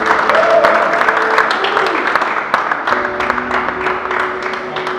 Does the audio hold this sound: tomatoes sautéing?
no